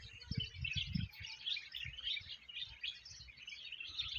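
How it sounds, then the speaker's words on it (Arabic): Small birds chirp and tweet softly in a quiet outdoor setting, scattered high calls overlapping continuously, with a few low muffled thumps near the start. "زقزقة الطيور"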